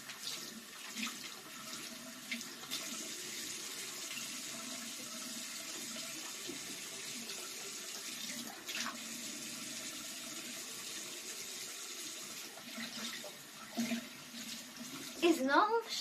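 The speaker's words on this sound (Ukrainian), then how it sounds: "Потім це все треба змити водою." Steady running water rinsing baking soda away in a sink, a continuous hiss with brief clatters and splashes near the end.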